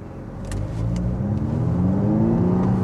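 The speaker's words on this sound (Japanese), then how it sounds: "このスポーツモードはねこの疑似音がこっから鳴ってるということで" A Honda Accord's synthetic engine sound in sport mode plays inside the cabin, a smooth, rising drone that climbs steadily in pitch as the car accelerates, close and continuous.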